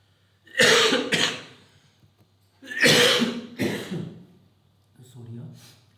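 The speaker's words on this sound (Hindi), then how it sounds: "सॉरी मुझे थोड़ी खांसी हो रही है" Three separate bursts of coughing and throat clearing from one person indoors, each a harsh, close double hack with quiet gaps between them.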